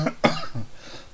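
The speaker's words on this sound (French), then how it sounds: "J'ai la toux grasse toujours. C'est ce qu'on appelle une toux glaireuse." A single wet, phlegmy cough bursts out close to the microphone, followed by a shorter throaty catch, with no talking.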